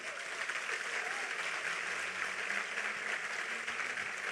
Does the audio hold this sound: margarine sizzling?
no